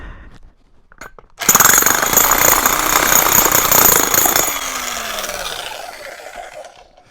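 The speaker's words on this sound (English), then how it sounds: "Now, jackhammer." A jackhammer kicks in abruptly against a Surron electric dirt bike's protective guard and pounds loudly for several seconds, then winds down into a fading mechanical whine.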